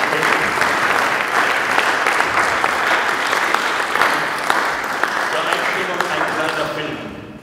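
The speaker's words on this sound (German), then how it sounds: "Da ist nochmal, glaube ich, ein Applaus." Sustained audience applause at a Zeiss donation ceremony at the Deutsches Museum, a dense, loud wash of many hands clapping steadily throughout, tapering slightly at the end with some crowd noise mixed in.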